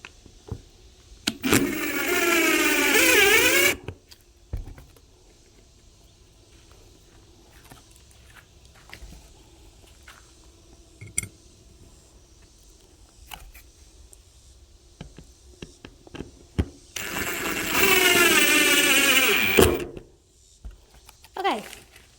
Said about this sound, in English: Now it's time to put the hardware on.